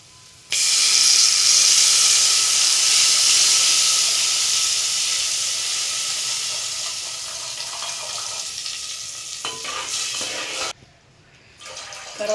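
Tamarind juice is poured into a hot tempering for broken-rice pulihora and bursts into a loud, sudden steam hiss that slowly fades over several seconds, then cuts off near the end.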